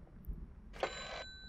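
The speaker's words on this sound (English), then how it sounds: "Oh, the phone." An old telephone rings once in the horror game Layers of Fear, a short bright bell-like burst over a low rumbling ambient bed.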